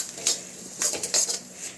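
A spatula stirs shredded cabbage in a metal pan for egg noodles: four short scraping, clattering strokes in an uneven rhythm, close by and moderately loud, with no talking.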